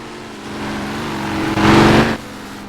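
A Jaguar banger race car at Skegness raceway, heard from inside, holds a loud steady engine drone that swells into a harsh burst of revving before easing back.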